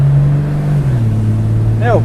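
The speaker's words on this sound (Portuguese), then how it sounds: "6 em linha, hein? Puta ronco legal." The inline-six engine of a 1985 Chevrolet Opala Diplomata rumbles loudly and close by with a steady deep idle note that settles slightly lower, and a brief rising whine near the end.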